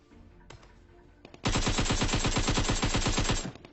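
Automatic gunfire in PUBG Mobile, in a military base fight: a sharp shot, a short pause, then a sustained rapid burst of evenly spaced shots, loud and close, cutting off abruptly.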